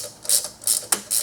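Ratchet working loose the intake manifold bolts on a 2009–2019 Dodge Ram Hemi 5.7L, with several quick bursts of clicking pawl strokes close up, separated by brief pauses.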